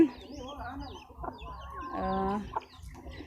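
Chickens on a mixed smallholding farm cluck in short, close bursts, with a few louder calls rising over a low background hum; no talking is heard.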